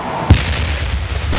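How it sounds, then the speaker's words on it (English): The robot TDX-243 in the video game Damnation fires its primary weapon, one heavy booming artillery-like blast, loud and close, followed by a rumbling decay. "TDX-243, fire primary weapon."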